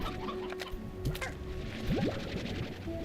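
Chickens cluck in the video game Slime Rancher, short faint calls scattered over quiet background game sounds.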